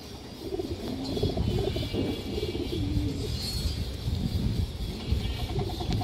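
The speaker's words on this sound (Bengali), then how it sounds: "এই দেখেন দর্শক কবুতরটা" Giribaj pigeons, a fancy breed with deep jam-coloured legs, coo softly at close range amid a steady murmur of other birds and background noise.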